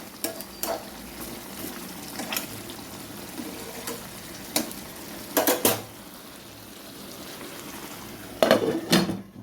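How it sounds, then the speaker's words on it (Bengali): Meat curry being stirred in a pan, with repeated sharp scrapes and clinks of a utensil against the metal over a soft background sizzle, the strokes coming in irregular bursts, no voices. "একটু নাড়াচাড়া করে দিলাম।"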